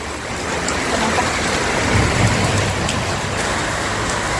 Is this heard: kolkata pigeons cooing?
no